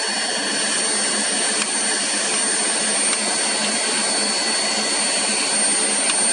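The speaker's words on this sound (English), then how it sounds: "Hold the vacuum somewhere close as you can." A vacuum cleaner roars steadily and close up while cleaning dust out of a PS4 Pro console, a loud continuous whine with a few faint knocks of the nozzle and no talk.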